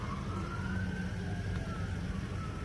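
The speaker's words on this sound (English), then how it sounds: "There got more police cars. There they go." A police siren wails steadily in the distance, a rising and falling tone over low traffic rumble.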